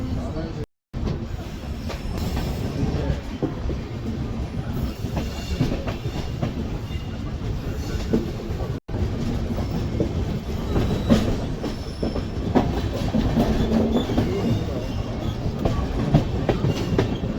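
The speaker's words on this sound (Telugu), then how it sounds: "మళ్ళీ మన బండి అయితే స్టార్ట్ అయిపోయింది" Seven Hills Express passenger train running between Secunderabad and Tirupati, heard from inside a general coach: a steady, loud rumble of wheels and rails with clattering and occasional squeals, continuing throughout, with faint voices in the background.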